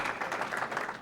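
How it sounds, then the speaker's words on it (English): At an Oregon Sports Hall of Fame dinner, the audience applauds scholarship winners with a brief, even wash of clapping from a roomful of hands, moderately distant and with no speech over it. "we applaud them"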